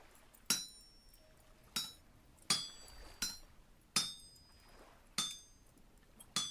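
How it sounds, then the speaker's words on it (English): Metal hammering on an anvil in the game Vintage Story: eight sharp, ringing clinks spaced about a second apart, each with a bright metallic decay, close and clear with no talk. "I'm hammering right now."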